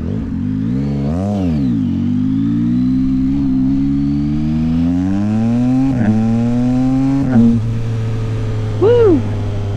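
A 2024 Yamaha MT-09 SP motorcycle engine revs up and down while riding, its exhaust rising and falling in pitch with a few crisp pops and crackles near the end, loud and close.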